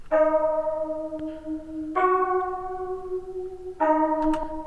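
Sampled Rhodes electric piano, filtered and treated with reverb and flanger, plays three sustained chords about two seconds apart, each a bright bell-like attack ringing into a long tail.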